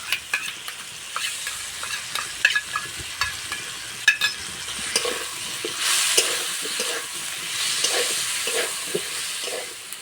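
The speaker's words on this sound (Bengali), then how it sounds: "আলু ভাজা হয়ে গেছে, এবার গুলে রাখা মশলাটা দিয়ে দেবো।" Spice paste of ground cumin, chilli and turmeric mixed with water hits fried potatoes in a pan, giving close sizzling with scraping stirs and clicks, the hiss swelling louder midway.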